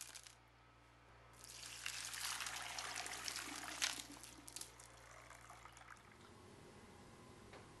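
Water is poured into a Lot-O vibratory rock tumbler holding rocks and dish detergent, a steady splashing pour of several seconds that then eases off, with no voices.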